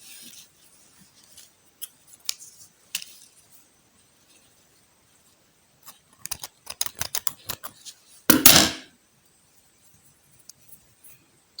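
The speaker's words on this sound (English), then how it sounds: "I'll just tie up the knot and cut off my thread." Scissors snip thread after a knot is tied on a bow hair piece: a series of quiet, close clicks and short cuts, then a louder rustling snip near the end, with silence between.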